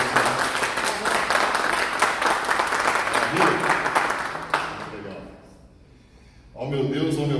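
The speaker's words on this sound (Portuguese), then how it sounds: "Salva de palmas aqui mais uma vez para você." An audience gives a round of applause at a business creativity talk, dense clapping for several seconds that fades to near silence before a voice begins speaking.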